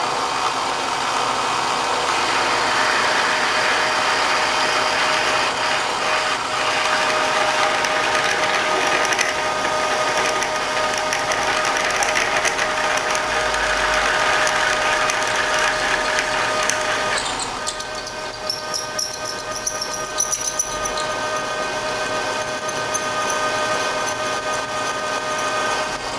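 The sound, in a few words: drill press drilling with 1/2 inch drill at 200 RPM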